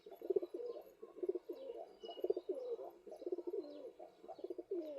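Pigeons coo in soft, repeated throaty phrases, several overlapping calls in a steady rhythm, fairly close, with no talking.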